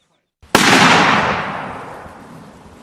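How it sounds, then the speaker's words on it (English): A single gunshot rings out in rural Japan, a sharp, loud crack followed by a long, fading echo, with no other sound around it. "In rural Japan, a gunshot rings out."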